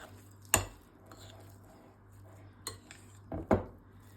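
A spoon scrapes and clinks against a bowl while pomegranate sauce is mixed into a bulgur chi kyufta mixture, with a few sharp knocks standing out over quiet, low stirring.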